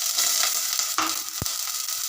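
Blended garlic and onion masala frying in oil with a little water added: a steady, close hiss of sizzling with a brief stir or splash in the middle.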